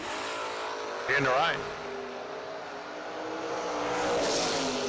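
Super Pro door cars at a drag strip, with engine roar and a broad rumble running throughout, swelling toward the end as the cars launch, under a track announcer's voice.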